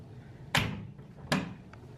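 Hotel room cupboard drawers opened and closed, two sharp wooden knocks about a second apart, each with a short rattle, close by with no talk.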